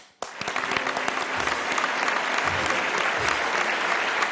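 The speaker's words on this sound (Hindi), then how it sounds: "पहले तो फैसल भाई के लिए बहुत सारी तालियां" Studio audience of a televised game show applauding guest Faisal: loud, sustained crowd applause that starts abruptly and stays dense and even throughout.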